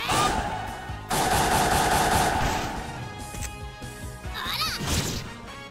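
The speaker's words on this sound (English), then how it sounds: "my boy here is gonna rapid fire him" Rapid-fire attack in the turn-based tactics game Disgaea: Hour of Darkness, a loud dense burst of crashing, gun-like hits that keeps hammering for several seconds, with game music and effects layered over it.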